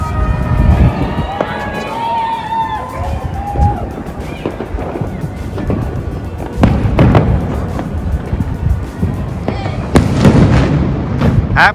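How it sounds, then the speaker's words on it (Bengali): Fireworks and firecrackers burst all around on a New Year's Eve night, seen from a rooftop with family gathered. There are repeated sharp cracks and rumbling booms, some near and some distant, under excited voices and chatter. "অন্যান্য দিকে সব বাজি ফাজি ফাটছে"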